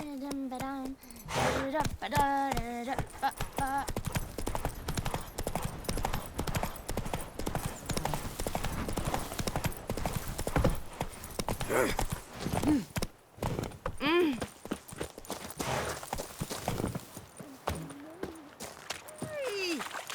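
A horse's hooves clip-clop steadily across ground in The Witcher 3, with a brief whinny early on, under frequent talking between characters.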